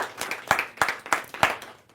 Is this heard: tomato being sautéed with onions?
no